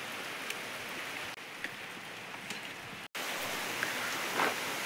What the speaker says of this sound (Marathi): पाऊस आता वाढायलाच लागलाय.